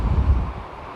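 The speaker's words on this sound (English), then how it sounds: "it's far too windy. Windswept." Strong wind buffets the microphone on the South West Coast Path between Treen and Penzance, a loud, continuous low roar with gusty swells across one second and no voices.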